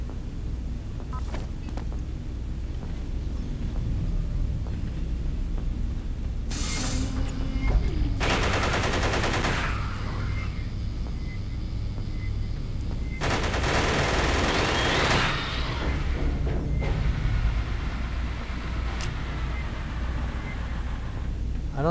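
A smart gun fires in the video game Aliens vs. Predator 2, sustained rapid automatic bursts over a steady mechanical hum, with louder sharper volleys breaking through at intervals.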